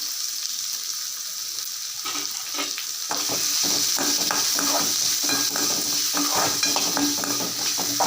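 Loud steady sizzling of chopped onion frying in hot oil, jumping in intensity as the onion is tipped in, with occasional stirring scrapes.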